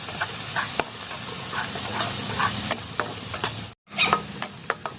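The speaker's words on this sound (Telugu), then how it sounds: "మసాలా వేగింది కదా, పసుపు, జీలకర్ర" Masala spices such as turmeric and cumin fry in a pan with a steady crackling sizzle, punctuated by sharp scraping taps of a spoon stirring, plus one brief dropout.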